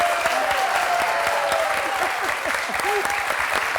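Studio audience of a few thousand people applauding on a French television quiz show, a loud continuous wash of clapping with a faint voice briefly audible underneath.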